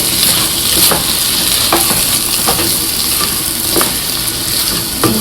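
Mixed market vegetables with tomato, three green chillies and fresh coriander leaves being stirred in a hot pan, a loud continuous sizzle with repeated spatula scrapes every second or so, close up and with no voices.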